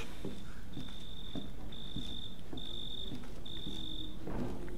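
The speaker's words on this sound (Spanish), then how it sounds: "Qué raro que estén los grillos tan de día." Crickets in the Resident Evil 7 video game chirp in regular high trills repeating about once a second, a steady outdoor ambience with faint soft footsteps beneath.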